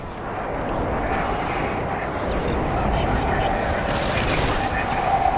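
Gunfire and explosions in the video game Call of Duty: Modern Warfare 3, a dense rumbling barrage of shots and blasts that stays loud and continuous, with a voice speaking over it.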